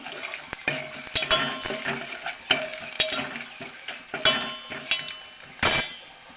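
Chana dal and garlic tempering in hot oil in a pan, a steady close sizzle broken by repeated metallic clinks and scrapes of a ladle stirring, with one sharp louder burst near the end.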